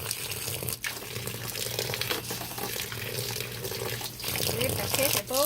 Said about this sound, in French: je vais l'arroser